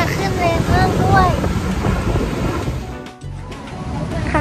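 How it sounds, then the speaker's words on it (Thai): Strong wind gusts roar across a beach on Koh Larn as a storm moves in, a loud buffeting rush over surf that dips briefly and builds again, with a voice talking over it at the start. "ลมแรงมากขึ้นแรงมากด้วย"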